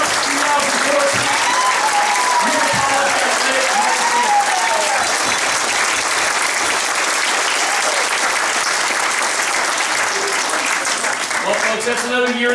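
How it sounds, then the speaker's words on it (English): Long, loud, continuous applause from a banquet audience honoring 2014 Yuba College Athletic Hall of Fame inductees, with cheers and voices in the crowd. "Big round of applause, 2014."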